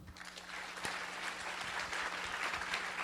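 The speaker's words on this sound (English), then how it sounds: "let's give Michelle a round of applause" Audience at the Taiwan Tech Summit conference in North America claps for a speaker named Michelle; the applause is fairly faint and distant, building in the first half second and then holding steady, with a low hum beneath.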